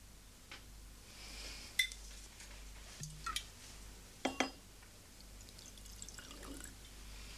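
Cognac poured from a bottle into a glass in a quiet room, with faint liquid trickles and a few soft drips and clinks spread over several seconds.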